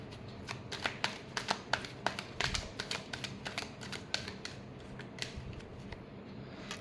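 Tarot cards being shuffled by hand, close and quiet: a run of crisp, papery riffles and flicks in quick, uneven bursts over a soft background hiss.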